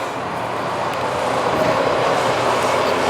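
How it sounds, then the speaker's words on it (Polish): A double-decker passenger train headed for Hel passes close by, a loud, steady rumble and rush of wheels on rail that swells slightly as it goes, with no talk over it. "Jedzie pociąg piętrowy na Hel."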